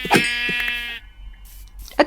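Sheep in the video game Minecraft bleating, a couple of close, loud nasal baas with a short quiet gap before another sharp bleat begins at the end.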